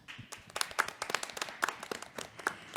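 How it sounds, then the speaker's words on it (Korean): A small symposium audience claps in welcome for an invited guest, a thin, faint patter of separate hand claps with an uneven rhythm. "박수로 환영해 주시기 바랍니다."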